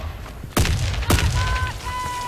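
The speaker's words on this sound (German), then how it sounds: "Granate!" In the video game Warface, two heavy, close booms burst out about half a second apart, each with a rumbling tail, followed by a thin, steady electronic tone from the game.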